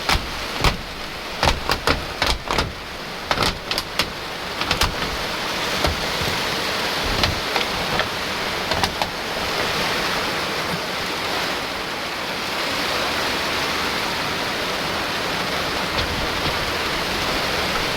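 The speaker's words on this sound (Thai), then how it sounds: "น้ำฝนหย่อยลงมาเลย" Heavy rain at home with water leaking through the roof and dripping down, a steady loud wash of rain noise with a cluster of sharp knocks and drips early on.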